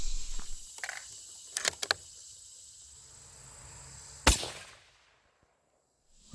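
A single loud, sharp rifle report from a 6.5 PRC firing a 140 gr Nosler Partition handload stands out midway, preceded by a few small clicks and handling noises over quiet outdoor ambience, then fading to near silence.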